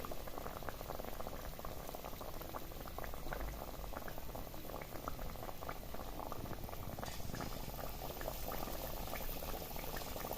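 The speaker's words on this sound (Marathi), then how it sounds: "तेल चांगलं तापलेलं होतं त्यामुळे आपली जी भजी शिजण्याची किंवा तळण्याची जी प्रोसेस आहे ती लगेच चालू झाली आहे" Potato bhaji fritters frying in well-heated oil, a steady dense bubbling and crackling that holds evenly from start to finish at moderate loudness, with no voices over it.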